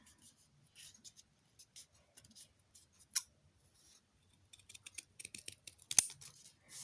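Scissors snip through old book paper in short, close, quiet cuts, with soft rustling of the pages between snips and one sharper clip near the end.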